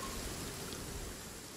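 A steady in-game downpour of rain in Genshin Impact, a dense, even hiss of falling water that holds at constant loudness for the whole moment, with no voices over it.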